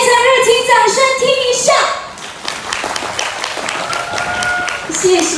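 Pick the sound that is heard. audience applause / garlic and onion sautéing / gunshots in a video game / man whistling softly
audience applause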